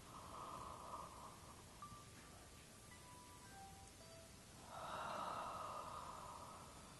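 Soft, breathy yawns during a jaw-relaxing yoga exercise with molar massage, two drawn-out exhalations heard faintly and close over a steady hiss, with no talk.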